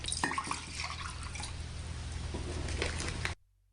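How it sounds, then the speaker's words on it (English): Water is poured into a kitchen measuring cup to fill one cup, a close, continuous splashing and trickling pour lasting about three seconds before stopping abruptly, with no talking. "So I'm measuring a cup of water here"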